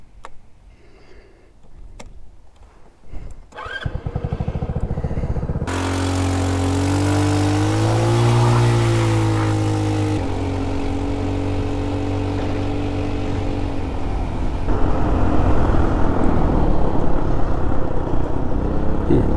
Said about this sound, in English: It actually is idling better.